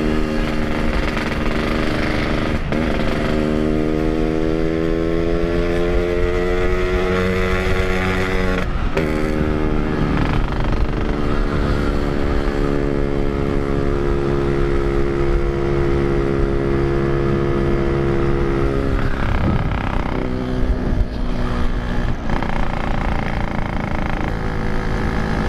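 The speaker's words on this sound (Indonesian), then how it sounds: "Gila, motor gua paling berisik ya di antara motor-motor lain nih" A loud two-stroke motorcycle engine drones continuously while riding, its pitch rising and falling as the throttle changes, with a raspy buzzing tone.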